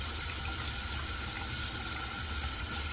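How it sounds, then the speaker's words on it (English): Water running steadily from a tap during a shave at a bathroom sink, a continuous loud hiss and splash throughout with no talking. "turn that water off"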